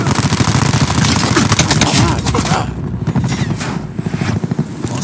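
Dense, loud automatic gunfire from Call of Duty 4 gameplay, rapid bursts running almost nonstop before easing into scattered, choppier shots.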